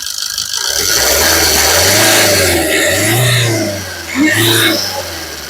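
A 2015 Maruti Suzuki S-Cross ZETA car engine is revved loudly up close, climbing and falling in pitch with a mechanical whir and a second shorter rev near the end, no talking.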